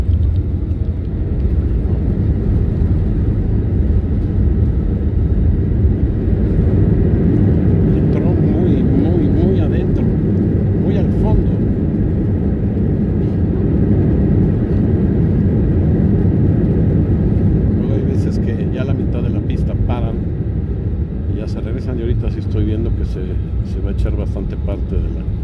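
A passenger jet rolls along the runway at Puerto Vallarta airport with a steady, loud cabin engine rumble and drone throughout, while faint speech is audible beneath it.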